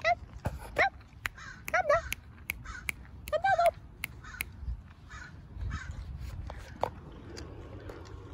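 A raven caws repeatedly while harassing a hawk outdoors, several harsh calls in the first few seconds mixed with sharp clicks and rustling, then fainter calls and a distant voice later.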